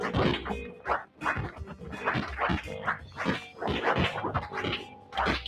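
A dog in a zombie video game yelps and barks in quick, loud bursts, with whimpering between them, for several seconds.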